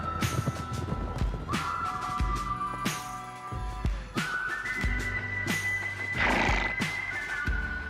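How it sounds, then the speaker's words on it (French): Andalusian horses at a prestigious riding school neigh and whinny repeatedly, loud and close, over hoof clip-clops and a few sharp knocks, with no talk. "où l'on apprend aux élèves à dresser les très célèbres chevaux andalous."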